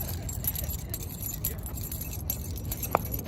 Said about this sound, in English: I'm gonna get my keys out, see if it helps.